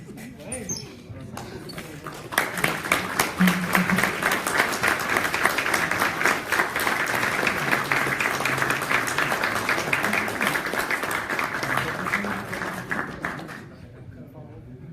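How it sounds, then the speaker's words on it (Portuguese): Audience applause at an academic seminar on economic crisis, a dense burst of many hands clapping that swells in, holds steady for about ten seconds, then fades out toward the end. "Eles merecem uma salva de palmas."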